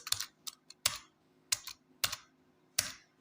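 Quantity and bill items are typed in on a laptop keyboard as a few sharp, separate key clicks and taps at an irregular pace, close and fairly quiet over a low hum, with no speech.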